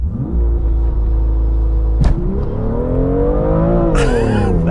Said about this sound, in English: Oh, there was a bit of wheel spin.